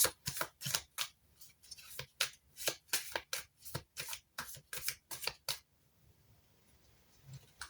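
A deck of tarot cards being shuffled and drawn, about a dozen crisp riffling bursts in a quick uneven rhythm, close and clear, then near silence.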